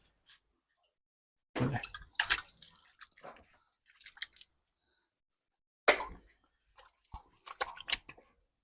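Bursts of rhythmic squirting milk streams from a freshly calved cow milked by hand into a pail, in short rapid runs separated by quiet pauses, in a Punjab village.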